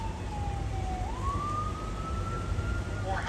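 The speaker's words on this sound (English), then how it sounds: "As this ambulance goes by, you might want to cover your ears. They're fairly loud." An ambulance siren sweeps past on a cruise-port street, a loud, steady rising wail over constant traffic rumble with no voices.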